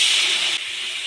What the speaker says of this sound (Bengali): এবার ওর মধ্যে আমি জল দিয়ে দেবো।